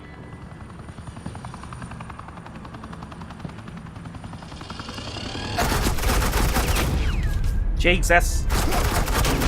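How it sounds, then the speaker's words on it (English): Suppressing gunfire erupts in Batman: The Enemy Within, with dense automatic bursts breaking in sharply after a quieter stretch of humming, engine-like background. A voice speaks briefly amid the loud, close fire. "suppressing fire."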